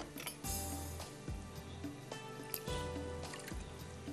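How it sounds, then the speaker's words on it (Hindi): Water poured from a container into a bowl of egg mixture for coating drumstick kababs, a few soft liquid splashes and trickles with faint clinks in a home kitchen. "थोड़ा सा इसमें जाएगा पानी"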